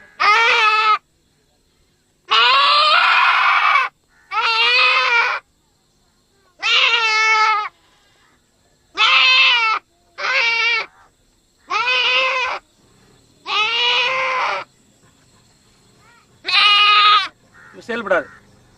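Goat bleating in a series of about ten loud, close bleats separated by short pauses, with no talking in between.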